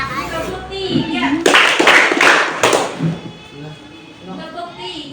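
Children in a classroom clap their hands together in a counting clap game, a loud burst of group clapping in the middle of the clip, with a teacher's voice and children's voices speaking before and after.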